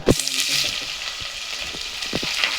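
Onion frying in hot oil in a pan, a loud continuous sizzle with a sharp clatter at the start and several brief stirring knocks and scrapes after it.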